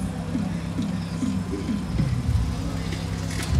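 Motorized TransTop mechanism on a 1992 Honda Del Sol raising its targa roof, a low steady electric whirr with a few rising mechanical whines, heard close over a faint background hum.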